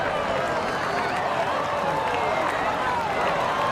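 Golf gallery at the U.S. Women's Open roaring as a bogey by Annika Sorenstam is posted at the 17th, a dense, sustained crowd swell that fills the whole moment with broad, continuous noise.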